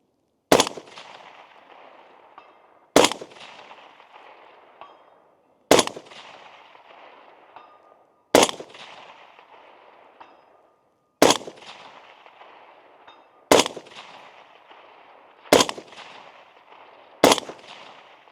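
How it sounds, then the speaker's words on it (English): Eight single gunshots from an LMT MARS-H AR-10 rifle fired at a steady pace of roughly one every two and a half seconds, each a loud sharp crack followed by a long echoing tail outdoors, with no talking. "See if we can get a little more rapid fire."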